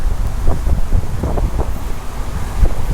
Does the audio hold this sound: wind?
yes